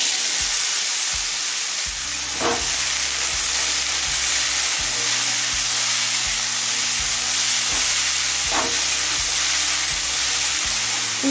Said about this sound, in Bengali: এবার উচ্ছে আর আলুটা ভেজে নেব।